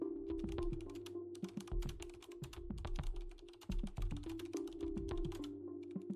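Steady, fast typing on a computer keyboard, entering a text prompt into an AI tool, with continuous close clicks over a low constant hum.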